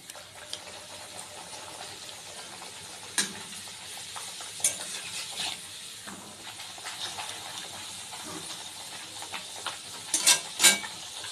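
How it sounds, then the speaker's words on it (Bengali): Food frying in hot oil in a home kitchen, a soft continuous sizzle with occasional sharper crackles and a few louder bursts toward the end, fairly quiet and with no talking. "দেখো এটা দিয়ে দেখো তেল গরম হচ্ছে, তেলেতে দিয়ে দিলাম"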